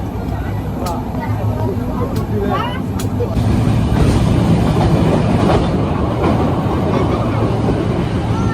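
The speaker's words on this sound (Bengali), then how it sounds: "ট্রেন চলে আসলো অনেক প্রতীক্ষার পর" A passenger train pulls in and runs on with a steady, loud broadband rumble and rattling wheels on a crowded early-morning platform, with voices audible underneath throughout.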